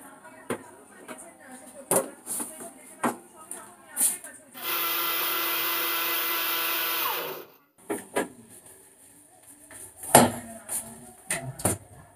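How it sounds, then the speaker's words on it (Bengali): Mixer grinder blending eggless fruit cake batter with vinegar in a home kitchen: about three seconds of loud, steady motor whir, with clattering knocks and handling noises before and after. "এটা ভালো করে আমি মিক্সার গ্রাইন্ডারে ব্লেন্ড করে দিচ্ছি।"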